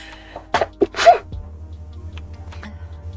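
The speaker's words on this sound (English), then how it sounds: "I'm gonna sneeze." A single sharp, close human sneeze with a quick intake of breath beforehand, followed by quiet background hum.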